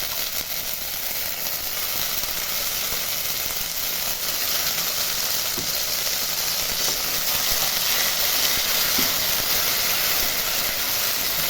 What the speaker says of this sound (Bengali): দেখুন, তেল গরম হয়ে গেছে। এবার আমি দিয়ে দিচ্ছি মটরশুঁটিটা।